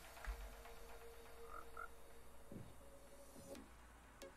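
Minecraft frog croaking in the Nether, several short croaks over a steady ambient game background, moderately close and clear with no talk.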